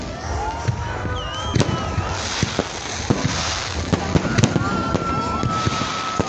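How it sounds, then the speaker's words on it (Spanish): New Year's Eve fireworks over Acapulco crack and pop overhead in scattered bursts, with whistling streaks rising between them and a steady rumble of wind and distant crowd underneath. "Realmente estamos abajo de los fuegos artificiales."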